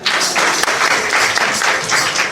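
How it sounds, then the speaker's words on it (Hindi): An audience at a satsang in a private home claps together, a steady, loud patter of many hands that swells in rhythmic waves and carries on throughout. "ताली बजाओ भाई।"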